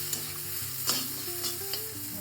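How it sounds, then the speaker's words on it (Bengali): Vegetables with onions being stir-fried in a pan for a vegetarian paneer dish, a close, steady sizzle with scraping stirring strokes of the spatula over about two seconds, no voices. "ভাজা ভাজা হয়ে গেছে, মোটামুটি অনেকটাই ভাজা হয়ে গেছে"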